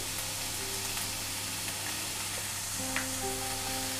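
Onions with salt and turmeric fry in a pan, producing a low, even sizzle with a faint clink or two of a utensil, quiet and without talk.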